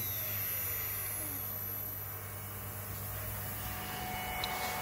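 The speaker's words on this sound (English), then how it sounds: "spindles running" A spindle motor driven by a Chinese JLS-E-2S-2 VFD runs with a steady low hum and broad airy whir, even and moderately quiet throughout, with no voices.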